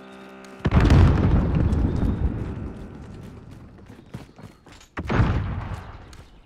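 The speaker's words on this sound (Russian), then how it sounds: "Кидаю гранату!" A grenade explodes in Call of Duty: Modern Warfare with a loud close blast and a long rumbling decay, and a second heavy detonation follows about four seconds later, with scattered gunfire in between.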